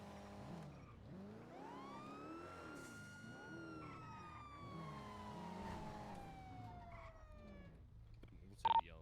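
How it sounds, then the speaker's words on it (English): A police car siren sounds in a police-roleplay video game, a faint rising and falling wail sweeping steadily across the whole stretch with little else around it. "Turn on the sirens."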